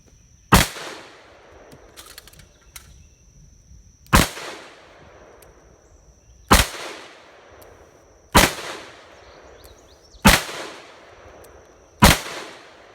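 Six loud, sharp shots from a Smith & Wesson 586 .357 Magnum revolver ring out at a slow, even pace, each crack followed by a brief fading echo with quiet gaps between.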